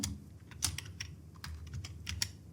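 Keys tapped on a computer keyboard while text is entered in Adobe Premiere Pro, giving a quick, irregular run of light clicks, close and fairly quiet, with a low steady hum underneath.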